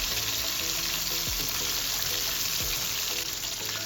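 Fish fries in a pan over a medium flame, giving a dense, continuous sizzle with bubbling crackle and a couple of soft knocks from the pan, close and with no talk.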